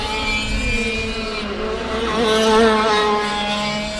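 A small race car with no roll cage or seat belts is driven hard at around 120 km/h and slid into corners, its engine a steady loud whine that swells slightly mid-pass, with no talk over it.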